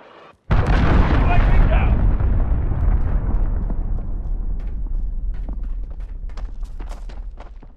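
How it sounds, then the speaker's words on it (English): Cruise missile strike in Call of Duty Modern Warfare: a sudden massive blast bursts in and rolls into a long, loud rumble that slowly decays, with sharp crackling pops and debris impacts scattered through the tail. "Enemy cruise missile incoming. Take cover."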